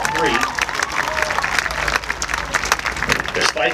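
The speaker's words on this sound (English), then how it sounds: "Okay, give them a big round of applause." An outdoor audience at a 2022 high school marching band camp performance gives steady, enthusiastic clapping with a little cheering, and a voice speaks briefly at the start.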